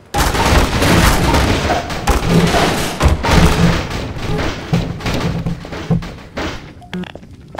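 Rapid gunfire and heavy thuds from a Half-Life 2 Synergy mod co-op firefight, loud and continuous bursts through most of the stretch before thinning out near the end.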